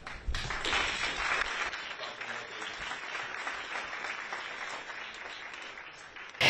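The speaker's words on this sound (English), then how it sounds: "he got puffed up when the audience applauded for him over that" Audience at the Archewell event in New York City applauding, a sustained wash of many hands clapping for several seconds, moderately distant and fairly even before fading slightly.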